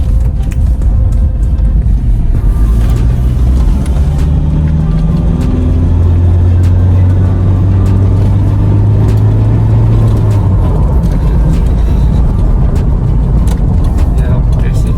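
Toyota Fortuner G VNT 2015 diesel SUV accelerating, heard from inside the cabin as a steady loud low engine drone with a rising tone, continuous road rumble throughout.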